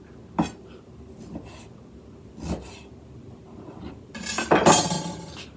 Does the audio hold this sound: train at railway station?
no